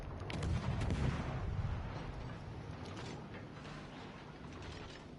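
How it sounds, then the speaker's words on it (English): Warship guns fire in a naval combat game: heavy booming shots with mechanical clatter, loudest at the start and then fading into a steady rumble. "So while we're lit up on the radar, we may as well fire our guns, eh?"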